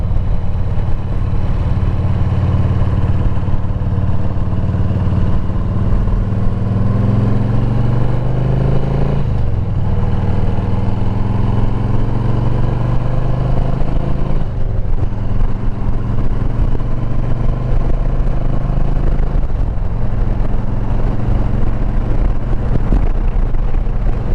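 A Harley-Davidson project bike, lowered an inch, heard on the ride to work: a loud rumbling engine rises in pitch through repeated gear runs, shifting roughly every five seconds, under steady wind rush and with no talk.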